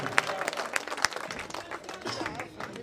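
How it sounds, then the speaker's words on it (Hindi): Crowd applause at an All India Mushaira poetry gathering in Sangareddy, with sharp individual claps standing out from scattered hand-clapping and murmuring voices in the audience. "जोरदार तालियां बजाइए जनाब आमिर खुशावली के लिए"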